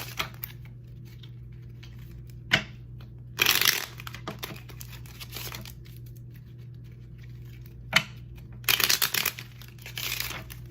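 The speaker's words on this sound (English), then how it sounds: "I'll shuffle as many times as I hear to shuffle" Tarot cards are shuffled in a few short, papery bursts, close and fairly crisp, separated by quiet stretches over a low steady hum.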